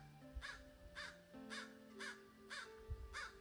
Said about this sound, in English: And a little tiny crow talking to me.